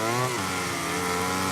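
Racing motorcycle engines from the MotoGP 17 video game, including a Honda, scream at high revs with a steady harmonic whine, and the pitch drops briefly as a gear shifts early on.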